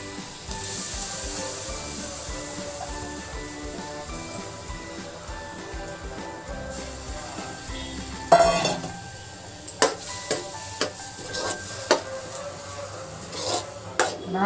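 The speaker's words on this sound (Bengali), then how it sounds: "লো ফ্লেমে এটা এরকম পাক দিতে হবে।" Grated coconut being stirred into jaggery in a pan over a low flame for Bengali patishapta filling, a soft scraping and gentle sizzle, then sharper spoon-on-pan knocks and clatters near the end.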